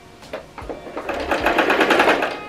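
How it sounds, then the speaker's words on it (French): Sewing machine stitching around a homemade floral bucket hat: a close, loud, rapid mechanical chatter that starts in short bursts and then runs continuously. "je vais venir coudre tout autour"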